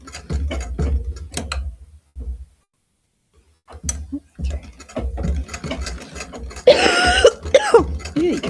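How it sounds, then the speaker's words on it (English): Person coughing repeatedly while sewing a corset, with bursts of harsh coughs, a silent pause, then more coughing and rustling close by, and a brief loud mechanical whir near the end. "I'm sorry for all that horrible coughing."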